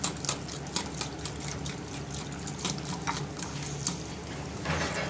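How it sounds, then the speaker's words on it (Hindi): A hand beater whisks yogurt with a spoonful of sugar in a bowl, giving a steady run of quick, close wet clicks and swishes with no talking. "और 1 चम्मच इसमें ऐड करेंगे हम चीनी, और इसको हम कर लेंगे हैंड बीटर के साथ अच्छी तरह मिक्स।"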